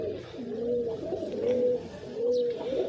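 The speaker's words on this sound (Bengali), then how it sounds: "দেখেন কত সুন্দর কবুতর" Pet pigeons in an open loft coo repeatedly, soft low rolling calls in a steady rhythm, close and fairly clear with no talk.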